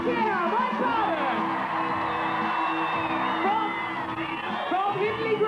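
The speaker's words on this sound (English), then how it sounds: "Let's give him a cheer." Crowd at a 1984 BMX competition cheering and whooping for rider Mike Carter, a loud sustained roar of voices and shouts with an announcer talking over it.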